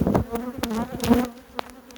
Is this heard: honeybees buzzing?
yes